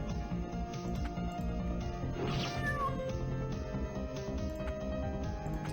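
Cats meowing in the video game Epic Battle Fantasy 2, repeated loud synthetic meows and yowls over busy looping game music and battle effects, with no talking.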